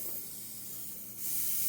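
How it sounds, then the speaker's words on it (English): Short steady hiss of an airbrush spraying paint onto a Mustang headlight, close and fairly quiet, swelling slightly louder near the end. "I'm going to use more airbrush"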